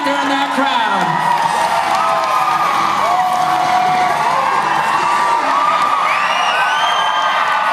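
Loud, continuous crowd noise at an extreme sports show, with cheering, whoops and excited children's shouts running through the whole stretch, sustained rather than clipped.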